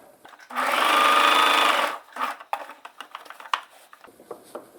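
A sewing machine stitches a fabric scrunchie, running in one steady, loud burst of about a second and a half, then stops, followed by a series of lighter handling taps and rustles of the cloth.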